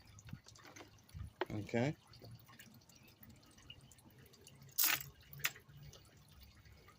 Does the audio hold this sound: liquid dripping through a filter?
yes